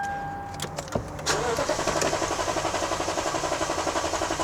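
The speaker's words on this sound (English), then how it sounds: "It's trying to start, but it won't start." A Lexus GX460 engine cranks repeatedly without catching, a steady rapid starter churn that begins about a second in and continues at close range to the end, with no speech over it.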